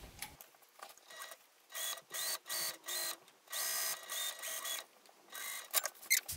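A sewing machine basting vinyl with a 1/8-inch seam stitches in short bursts of fast, clattering runs, separated by brief pauses and ending with a few quicker spurts, close and alone.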